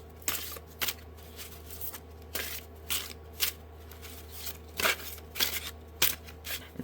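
Stiff handmade oracle cards of collage paper and glue, sealed with clear matte acrylic, shuffle in a run of crisp, papery riffles and flicks, close and fairly quiet, with no one talking.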